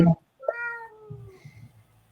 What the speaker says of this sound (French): Et le chat qui dit au revoir.